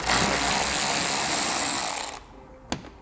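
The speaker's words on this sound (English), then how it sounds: "We'll remove the Phillips heads first." Power tool backing Phillips head screws out of an underbody panel on a 2018 car, a loud, close, continuous whirring run of about two seconds that stops abruptly, then a single sharp clack.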